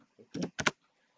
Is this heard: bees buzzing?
no